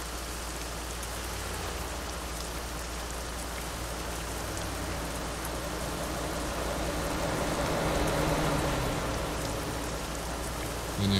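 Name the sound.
rain in Euro Truck Simulator 2 video game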